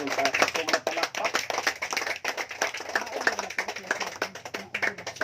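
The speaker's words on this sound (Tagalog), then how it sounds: "Palakpakan natin ang Panginoon." A church congregation clapping together, a dense, irregular run of hand claps lasting several seconds, fairly close and lively, with voices mixed in underneath.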